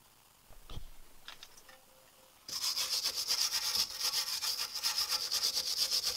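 A wire brush scrubs a VW T5/T6 brake caliper in quick, steady back-and-forth scratching strokes, loud and close, starting after a quiet few seconds with a couple of faint knocks.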